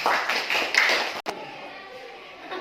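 A seventh-grade classroom gives a short burst of clapping, brisk and fairly close, that stops abruptly after about a second, followed by quieter room noise.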